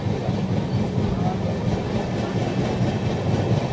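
The Araku train running along its tracks at a cruising speed of about 26 km/h, producing a continuous loud rumble with rhythmic wheel clatter, heard from inside the carriage.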